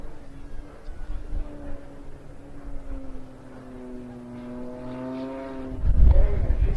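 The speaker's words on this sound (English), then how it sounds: "Just a very brief prop hang there with no smoke, but virtually hovering" An aerobatic propeller plane's engine drones at an air show during a prop hang: a steady harmonic hum that swells and rises in pitch near the end, heard from a distance.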